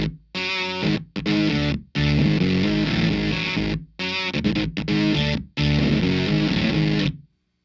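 Loud, gritty electric guitar riff with distortion, played in choppy phrases with brief pauses between them, close and dry, no talking, recorded through a Shure KSM313 ribbon microphone.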